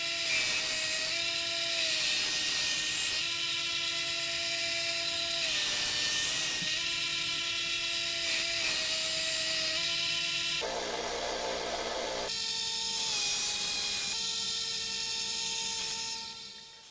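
A belt grinder runs steadily while a knife blade for a friction folder is ground on it, a loud continuous whine that shifts in pitch and drops briefly as the blade is lifted and pressed back to the belt.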